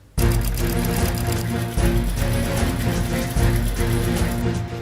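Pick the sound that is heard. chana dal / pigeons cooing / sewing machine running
sewing machine running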